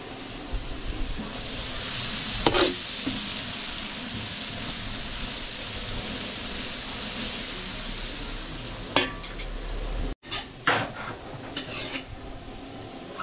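Mixed seafood sautéing in a pan with garlic, onion and butter at a catering job, giving a steady sizzle with a few sharp utensil scrapes and clanks, close and with no talking.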